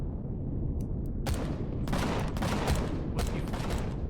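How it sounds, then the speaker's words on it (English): Sustained gunfire in Empyrion Galactic Survival, a dense rattle of shots with several sharper bursts standing out, loud and continuous with no talking. "What are you firing at?"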